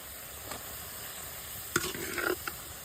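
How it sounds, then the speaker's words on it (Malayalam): Cooked rice tipped into a hot frying pan and stirred for homemade fried rice, a steady low sizzle with a few scraping knocks of the spoon against the pan near the end. "ഇനിയാണിതാ ചോറിടുന്നത് കേട്ടോ"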